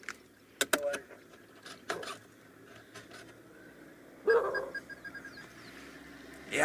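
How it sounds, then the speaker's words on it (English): African wild dogs give a series of short, yelping twittering calls at sunset on safari, with scattered bursts near and far, a louder cluster late on, over low vehicle rumble. "I haven't heard wild dogs make this sound"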